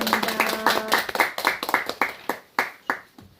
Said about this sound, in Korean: 우리 하나님께 영광 박수 마치겠습니다.